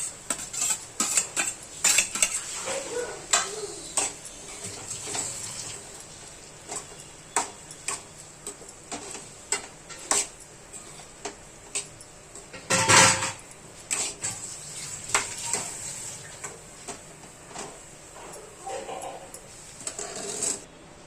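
A metal spoon clinks and scrapes steadily against a pan while cooked rice is mixed into cooked prawns for kolambi bhaat, with sharp close ticks and clatters and one louder knock midway.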